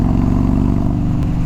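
Harley-Davidson Dyna Low Rider engine running loud and close, a deep, steady, rumbling low throb with a coarse mechanical texture, no voices.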